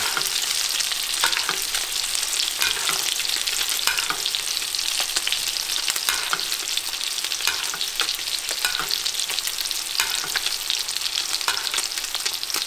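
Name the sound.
fish fillets pan-searing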